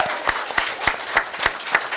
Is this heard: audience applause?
yes